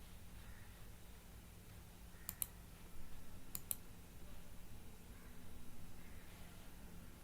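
A computer mouse gives two quick pairs of sharp clicks over faint steady background hiss, near and quiet.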